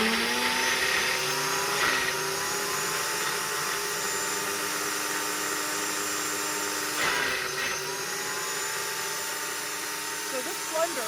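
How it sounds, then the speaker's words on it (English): A countertop blender working whipped cream cheese in an RV kitchen, running in a steady loud motor whine with small surges and dips as it pulses, near and continuous throughout. "flipped it upside down on the blender, and I'm going to try pulse to get this moving first"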